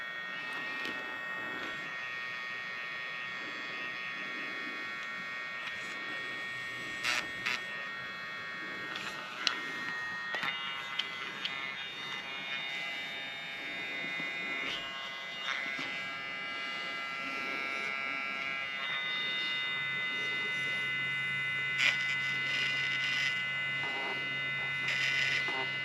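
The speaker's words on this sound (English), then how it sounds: "it's very low noise, so your pets won't be startled when you're trying to grind their feet." FEELLE dog nail grinder whirring as a steady high-pitched electric buzz that steps between different speeds, quiet and close, with a few brief clicks along the way.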